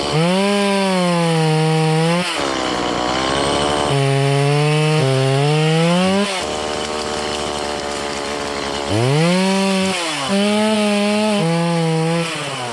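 A chainsaw engine roars steadily up close, its pitch dipping and rising as it bites into trees making hinge cuts and revs between cuts.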